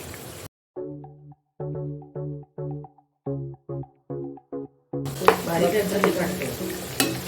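Vegetable pieces for surti undhiyu fry in hot oil, a bubbling sizzle that swells at the end, while someone talks steadily in short phrases over the cooking.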